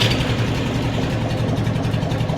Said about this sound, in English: we're going to start the tractor up real fast and move everything up to where it should be